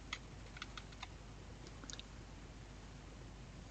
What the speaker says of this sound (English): I can now type the dam's name